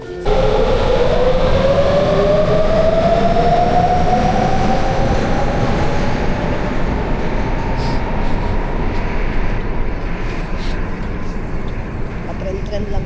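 A train in Sapporo, Japan rumbles loudly and steadily nearby, with a rising whine as it runs along the track and faint wheel squeal later on.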